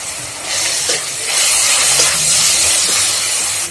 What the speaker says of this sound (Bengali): তো পেঁয়াজটা একটু সময় ভেজে নিয়েছি